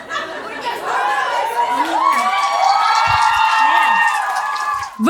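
Live comedy show audience shouting and cheering loudly throughout, a dense sustained crowd roar with whoops and scattered voices, close and continuous.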